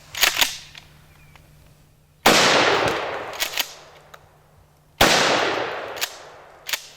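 A Mossberg 590 Shockwave shotgun fires birdshot at targets such as paint cans outdoors, giving three loud, sharp blasts a few seconds apart, each with a long rolling echo and lighter clicks in between.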